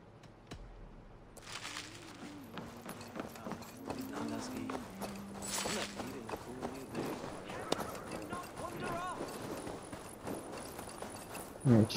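Steady hoof clip-clops from a walking horse in Assassin's Creed Valhalla run throughout, mixed with game music and effects, with a louder burst right at the end.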